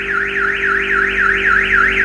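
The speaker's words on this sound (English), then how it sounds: "Cold start, set the alarm off." A Honda CRX car alarm wails loudly and close by, its siren sweeping up and down in a rapid, regular cycle of about three per second without pause.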